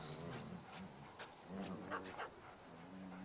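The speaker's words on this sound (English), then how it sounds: "We're here where there's dogs and they're making sounds." Dogs in the video game Witcher 3: Blood and Wine make quiet barks and whimpers, faint and intermittent over a constant bed of game ambience.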